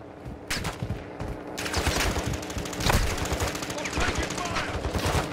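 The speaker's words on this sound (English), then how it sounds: "You are taking effective fire." Rapid automatic gunfire rattles from a military video game, with bursts of machine-gun fire growing denser and louder over steady background noise, shots overlapping throughout.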